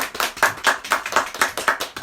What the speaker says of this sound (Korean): 모두 박수로 한번 환영하겠습니다.